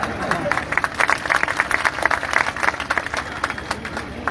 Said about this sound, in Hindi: भाइयों तुम भी ताली बजाओ